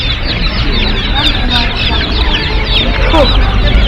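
Many chicks and ducklings cluck and chirp continuously at a poultry market, loud and close, with a crowded busy background rumble.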